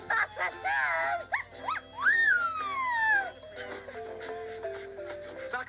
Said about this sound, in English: Socks mostly communicates through barking.